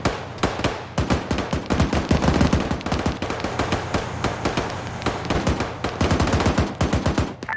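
Sustained automatic fire from a turret-mounted machine gun in a military shooter video game, a dense run of loud rapid bursts with brief gaps, close and continuous throughout without talk.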